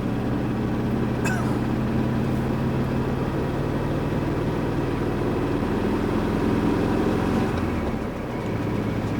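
A 1995 Mexican Volkswagen Beetle, Jeans Limited Edition, drones loudly and steadily in third gear, its air-cooled engine and road noise forming one continuous rumble from inside the car.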